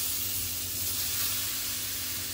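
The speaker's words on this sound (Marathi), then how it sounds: "आता मी कढई ठेवलेली आहे गरम करायला। तर पहिला आपण नारळ घालूया।" Grated coconut tipped into a hot kadhai for coconut barfi, giving a soft, steady sizzling hiss close by with no talk.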